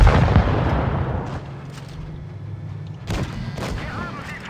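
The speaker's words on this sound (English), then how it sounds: "There's the rocket." A rocket launch and blast in an online tank battle game, a heavy booming impact at the start decaying into rumble, followed by a couple of further muffled thuds.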